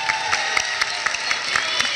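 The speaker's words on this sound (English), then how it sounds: "Let's give her a round of applause." Applause from the crowd at a girls basketball clinic, a quick burst of many hands clapping in a gym, crisp sharp claps fairly near and steady for a couple of seconds.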